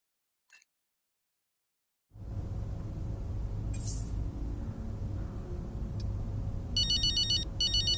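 In F1 23, a telephone rings after a brief click and a stretch of silence, its electronic trill arriving in short repeated bursts over a steady low room hum.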